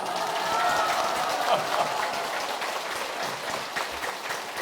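Audience at a Saturday lecture breaks into a short burst of applause, a fairly loud wash of clapping from the crowd for a few seconds with no talk over it.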